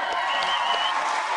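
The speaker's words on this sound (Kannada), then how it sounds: "ಆಲ್ ಇನ್ ಒನ್ ಆಗಿರುವಂತ ನಮ್ಮ ಆಲ್ ಇನ್ ಒನ್ ಆರ್ಮುಗಂಗೆ ಬರೀ ಚಪ್ಪಾಳೆ" Studio audience on a Kannada TV comedy show stage breaking into applause with scattered cheers, a steady dense wash of clapping heard close and loud throughout.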